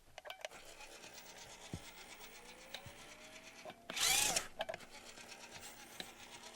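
An Injora 370 motor drives a Traxxas TRX4M RC crawler, giving a faint whine that rises in pitch as the truck creeps along, with scattered clicks and taps and a short harsh burst of noise near the middle.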